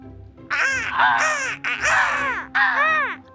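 A crow gives four loud, harsh caws in close succession, each rasping and slightly descending, heard close with no talk.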